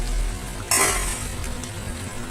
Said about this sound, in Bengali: এখন আমি একটু নাড়াচাড়া করে